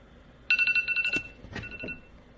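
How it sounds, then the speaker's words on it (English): A mobile phone ringtone sounds up close: a short burst of rapidly repeated bright electronic tones, followed by a few clunks and rustles indoors. No one speaks. "my phone keeps going off"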